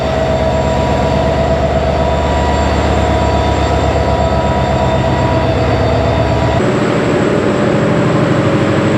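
Locomotive number 3008 idling at Chittagong station at the head of the Mohanagar Godhuli Express bound for Dhaka. A loud, close, continuous diesel drone with a steady tonal hum shifts in pitch near the end.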